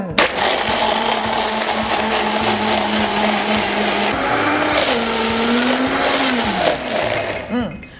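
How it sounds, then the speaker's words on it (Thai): A high-powered blender whirs loudly as it blends coconut milk with ice, a steady motor roar that shifts pitch as the load changes, continuous and close for several seconds. "เราก็ จัดการปั่นเลยค่ะ ด้วยเครื่องปั่นพลังแรง"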